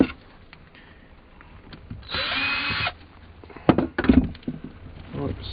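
A power screwdriver whirs in one steady burst for under a second while undoing screws on an old jigsaw, followed by a few clicks and handling knocks on the tool, with faint talk in the background.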